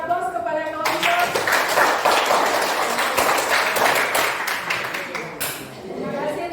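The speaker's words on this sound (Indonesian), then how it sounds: "Berikan aplaus kepada kelompok." Applause from a classroom audience for a presenting student group, a steady burst of many hands clapping for several seconds, with a voice speaking before and after.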